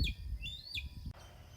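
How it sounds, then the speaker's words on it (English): Birdsong in a quiet vegetable garden in the morning, with a few clear chirping phrases that rise in pitch over steady outdoor ambience before the song breaks off. "Hear the birds."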